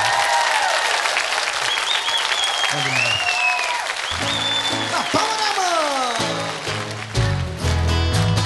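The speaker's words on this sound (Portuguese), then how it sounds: "Uma salva de palmas para vocês." Concert audience at a sertanejo show clapping in a sustained round of applause, a dense continuous crackle of many hands, with musical tones and some voices running over it throughout.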